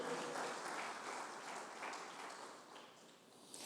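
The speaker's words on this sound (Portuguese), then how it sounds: "As palmas para Ele" A church congregation gives a short, faint round of applause during a sermon, the clapping tapering off softly by the end with no voice over it.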